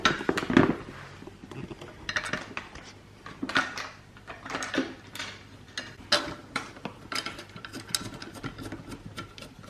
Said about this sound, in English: with the bolts that we removed from the underside, the 10mm bolts, we'll use those to attach the top plate